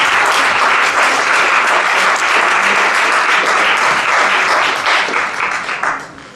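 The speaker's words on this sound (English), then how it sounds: "All right, give him a applause." A large indoor audience at a near-death studies panel event breaks into loud, dense applause for a speaker, sustained for several seconds before tapering off at the end.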